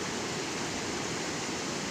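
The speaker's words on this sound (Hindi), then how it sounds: "पीछे कैसे झरने से पानी गिर रहा है" Steady roar of a waterfall pouring behind a river fishing spot, a constant broadband rush with no pauses and no voices.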